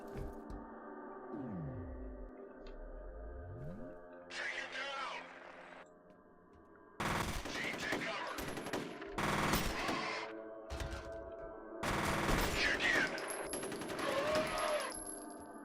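Shotgun fire in the shooter game F.E.A.R., with several loud, sharp blasts arriving in irregular bursts over a droning, electronic game backdrop.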